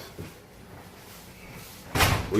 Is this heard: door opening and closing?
yes